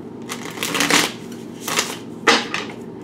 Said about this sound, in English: Let's do a couple more shuffles with single Gemini.